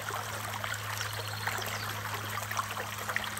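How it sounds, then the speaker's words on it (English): Water rushes and trickles continuously while washing the carpet of a Keene A51 sluice, a steady close splashing flow with no speech. "Now I'm going to wash the carpet out."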